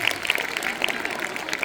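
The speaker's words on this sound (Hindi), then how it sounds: "चलिए तो एक बार जोरदार तालियां बजा दी हमने।" Students at a Children's Day school celebration at JNV Sheopur clap loudly in a short, dense burst of applause, with crisp individual claps standing out in the crowd.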